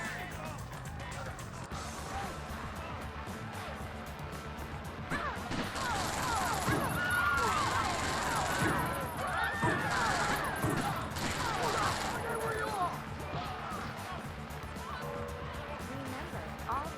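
Gunfire in the riot video game State of Emergency rattles in dense bursts and crashes over a busy, chaotic game background, growing heavier in the middle stretch, with a person talking through it.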